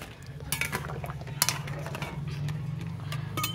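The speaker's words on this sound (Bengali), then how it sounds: "এদিকে দেখি চাপাটা খুলে ডিমটা কেমন সিদ্ধ হয়েছে" A lid lifts off a pot of eggs boiling in water with a couple of metallic clinks, over a steady low bubbling rumble close by. Nobody speaks.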